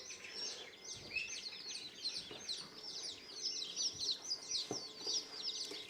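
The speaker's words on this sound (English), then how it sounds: "we got in new turkeys and bantam chicks this morning" A box of newly arrived bantam Easter egger chicks and turkey poults peeping continuously, a dense, high chorus of overlapping chirps heard close up, with a few soft bumps underneath.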